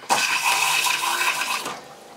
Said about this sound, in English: Then I flush the toilet.